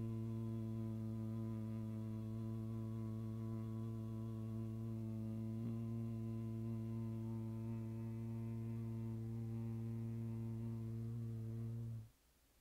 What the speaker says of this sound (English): and then we'll start the humming